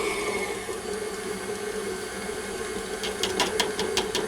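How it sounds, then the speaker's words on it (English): An electric mixer creaming room-temperature butter for a baked apple tart, running as a steady whirring hum throughout, with a few quick tapping clicks toward the end. "you want to start creaming the room temperature butter"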